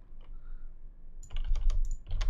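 Quick typing on a computer keyboard: after about a second of near quiet, a close, fairly loud run of clustered key clicks and taps, with no voices.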